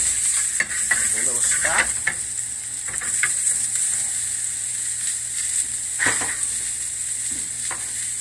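Red onion sizzling in a hot pan, a constant close frying hiss with occasional stirring scrapes, while a person speaks briefly.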